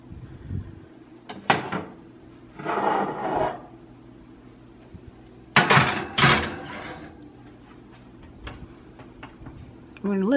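Peach cobbler in a baking dish slid into a 350-degree oven, followed by the oven door closing, several close clattering knocks and metallic bangs between pauses, with someone talking in the kitchen.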